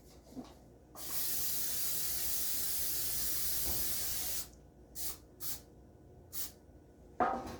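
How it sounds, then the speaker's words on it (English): A sustained hiss of cooking spray onto the bottom of a bread tin lasting a few seconds, followed by several short bursts of spraying, close and fairly loud in a quiet room. "we are going to spray only the bottom of your bread tin"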